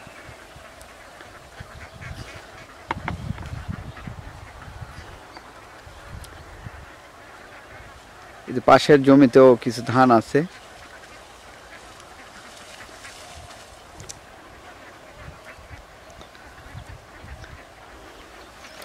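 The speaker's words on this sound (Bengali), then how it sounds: "খাওয়া দাওয়া নিয়ে ব্যস্ত।" Ducks feeding in harvested paddy fields let out a loud, close burst of quacking for a couple of seconds amid quiet open-field ambience, with someone speaking briefly beforehand.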